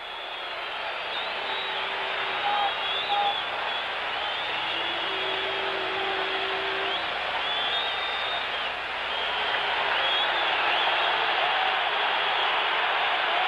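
A 1974 Notre Dame versus USC football crowd of 92,000 roars continuously, a dense distant wash of cheering that swells slightly toward the end, with a few faint whistles and horns cutting through.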